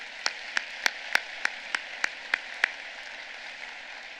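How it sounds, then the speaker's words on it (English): Clapping at a university social work summer commencement, heard as about nine sharp, evenly spaced claps standing out over a soft background hum, then stopping as the room quiets. "Another round of applause."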